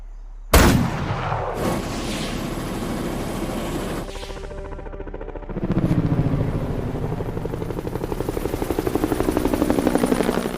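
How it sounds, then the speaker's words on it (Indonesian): A helicopter's rotor chops loudly after a sharp bang, the pulsing beat strengthening and steadying as it holds close overhead. "Arifin mendengar suara helikopter yang sedang berada di sana."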